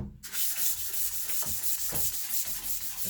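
Fine sandpaper on a sanding block rubbed by hand across the broad face of a solid-wood cutting board, a close, loud, rhythmic scratchy swish in repeated back-and-forth strokes with no voices.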